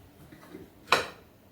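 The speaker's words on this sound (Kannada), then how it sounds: "ಸ್ಟವ್ ಆನ್ ಮಾಡಿಕೊಂಡು" A single sharp click sounds as a gas stove is switched on, a brief bright snap in a quiet kitchen with faint handling noise before it.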